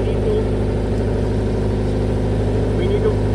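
A 30kVA generator's diesel engine runs steadily at a constant idle, a dense low hum with even mechanical drone throughout, close and continuous with no talk.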